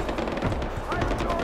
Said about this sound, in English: Lots of gunshot.